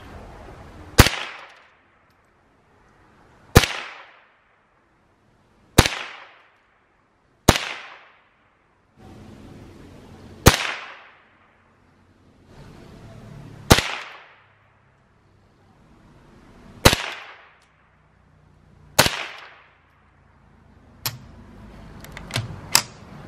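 Ruger 10/22 rifle shots carve a pumpkin outdoors: about ten sharp, loud cracks spaced a few seconds apart, each with a quick decaying echo, ending in a few faster shots in a row.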